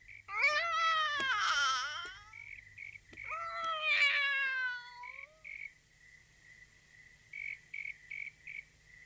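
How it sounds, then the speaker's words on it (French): A cat meows twice, long and drawn out, close and clear over a steady high cricket chirping that keeps pulsing after the calls end. "Viens ici, mon chat, viens ici."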